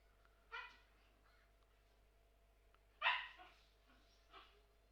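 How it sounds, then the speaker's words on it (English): A pet dog barks in the background of a home room, two or three sharp, moderately faint barks spaced a few seconds apart, the loudest around the middle, with no talking. "In the background you can hear my dog barking."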